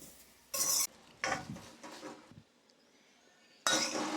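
Okra being stir-fried in a pan over a high flame, with bursts of loud scraping and stirring, sizzling and the clink of a metal utensil against the pan, separated by quieter pauses.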